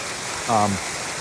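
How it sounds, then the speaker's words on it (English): A waterfall in upstate New York rushes steadily as a broad, even hiss close by, with a brief voice cutting across it. "as I find myself sitting next to this freaking gorgeous waterfall"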